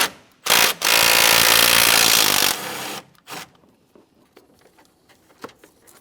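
A ratchet spins off a 10mm bolt holding the radiator fan assembly on a 2014-2018 Mazda 3, a loud, dense two-second whir up close, then a few light clicks and taps.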